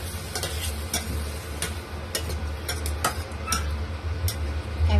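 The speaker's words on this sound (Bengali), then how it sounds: "এখন এটা ভাজাভাজি করব, সুন্দর করে লাল লাল করে ভেজে নেব।" Chili and turmeric powder fry in a pan with a low, constant sizzle. A utensil stirs and scrapes against the pan, making sharp, irregular clicks and taps close up, and no one speaks.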